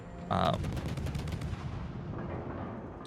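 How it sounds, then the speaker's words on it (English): Ship guns in a naval video game fire in a single sharp blast, followed by a rumbling tail that fades over a few seconds, with no other shots. "So I'll lock on to someone and start firing at them"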